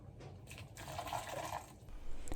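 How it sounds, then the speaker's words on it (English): Cooking water from boiled pumpkin seeds pours through a strainer into a bowl below, a steady close splashing trickle that swells midway and then tapers off. "I put the bowl under the strainer so I can catch the water"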